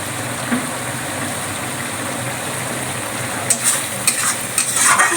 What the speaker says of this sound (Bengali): মিডিয়াম ফ্লেমে এবার আমি আদা বাটাটাকে কষিয়ে নেব